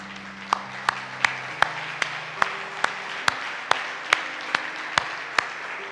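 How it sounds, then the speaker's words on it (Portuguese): A church congregation claps in a steady beat, one sharp group clap roughly every half second, over sustained low musical tones during a worship service. "¿por qué no damos un aplauso otra vez a Jesucristo, verdad?"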